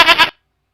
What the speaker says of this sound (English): Gotta love that sheep.